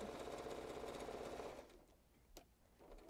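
A sewing machine stitching a napkin corner, a loud steady whir of rapid stitching for about a second and a half, then a stop with a faint click and quiet handling.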